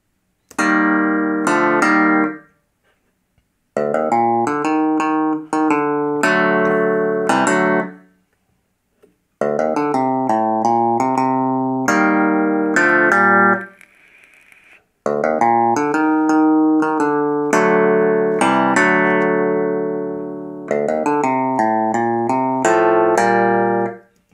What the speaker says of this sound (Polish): to są po prostu nutki MIDI